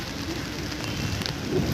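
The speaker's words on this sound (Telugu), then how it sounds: "ఈరోజు వర్షం పడుతుంది" Steady rain in Visakhapatnam pattering on surfaces, a dense continuous hiss with scattered drops, fairly close and with nobody speaking.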